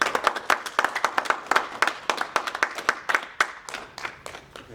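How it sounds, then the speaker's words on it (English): A small group applauds awardees at an awards and recognition ceremony, with distinct, uneven claps from a few people that are clear and close, slowly thinning out over several seconds with no talking. "Let's give all of our awardees a round of applause."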